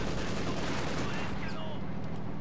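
Artillery shells and gunfire from the Company of Heroes 2 Operation Barbarossa campaign, with dense, continuous battle noise and bursts that sound like shots and explosions. A voice talks faintly underneath, and a short whistling tone sweeps through partway along.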